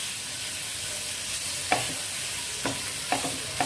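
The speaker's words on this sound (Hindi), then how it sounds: "चूल्हे को हमें स्लो कर देना है और इसे अच्छे से भूनना है" A fig and date mixture for a sugar-free anjeer khajoor roll roasts in a pan on low heat, giving a steady hiss of sizzling broken by a handful of distinct stirring scrapes, close and clear.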